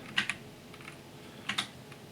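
Faint, close keystrokes on a computer keyboard come in two quick pairs of clicks, separated by a near-silent gap.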